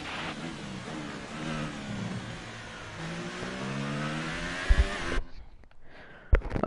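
An F1 car engine in the video game F1 2018 leaving the pits, whining and rising through the gears in a steady climbing drone, then cutting off abruptly, followed by a few sharp knocks.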